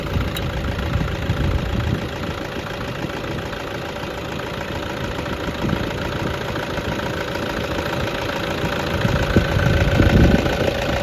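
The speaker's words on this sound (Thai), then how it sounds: "เสียงเครื่องยนต์นิ่มๆ เนียนๆนะครับ" A Toyota Hilux Vigo Champ pickup with the 2.5 J diesel, unremapped, idles steadily and smoothly, its even low rumble and mechanical chatter holding constant with a slight swell near the end.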